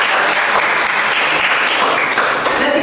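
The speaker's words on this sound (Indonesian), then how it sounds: "Tepuk tangan." A classroom group claps in steady, dense applause, loud and close, sustained throughout without pause.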